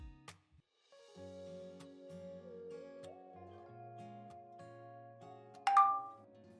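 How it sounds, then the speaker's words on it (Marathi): Soft sustained music plays quietly, then a short, bright notification chime rings out near the end. "मेसेज नोटिफिकेशन येताच सम्राटने तो मेसेज पाहिला."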